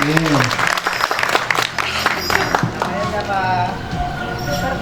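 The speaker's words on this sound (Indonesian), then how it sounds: "Beri tepuk tangan lagi dong kakak" Audience clapping at an Indonesian batik-making workshop for children with special needs, a dense patter of hands lasting throughout, with voices talking over it.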